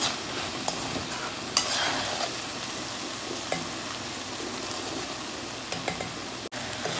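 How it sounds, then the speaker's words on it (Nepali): Soaked rice and lentils stirred and frying in a pan for a healthy jaulo porridge, giving a steady close sizzle with scraping stir strokes and a few sharper clinks, no talking. "भिजेको चामल दाल पनि मिसाएर मजाले यसरी फ्राई गर्ने"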